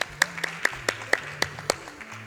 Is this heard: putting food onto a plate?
no